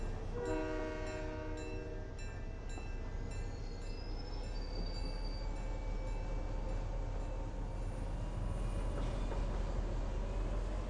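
A train in the video game Fortnite rolls past with a sustained horn blast at the start, then a continuous rumbling rail clatter that fades slightly as it moves on, with no talking.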